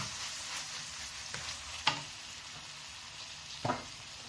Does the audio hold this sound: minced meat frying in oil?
yes